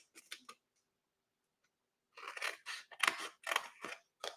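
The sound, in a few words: scissors snipping along score lines of paper treat box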